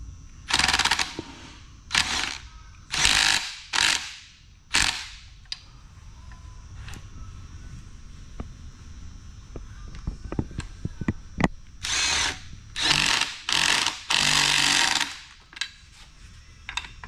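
An impact wrench hammers in several loud, close bursts of about a second each while removing bolts from an NP203 transfer case, with quieter clinks and tool handling between the bursts.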